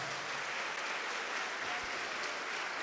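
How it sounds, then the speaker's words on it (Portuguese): A church congregation applauds during a worship service, a faint, diffuse and continuous wash of clapping heard from a distance with no speech over it. "vamos aplaudir ao nome de Jesus."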